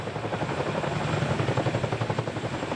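An RAF CH-47 Chinook helicopter's heavy rotor thumps in a fast, steady pulse over a dense roar, loud and close, with no voices.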